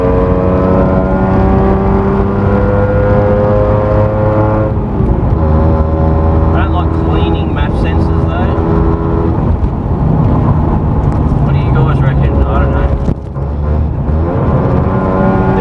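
Mazda RX8 with a 13B rotary engine, poorly running and reluctant to rev: loud, buzzing idle and rough revs that rise and fall, with a person talking over it at times.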